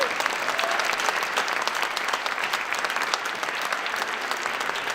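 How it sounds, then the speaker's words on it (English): Steady, dense audience applause at a film festival in Sedona, continuous and even throughout without any talking over it. "Please give a nice round of applause."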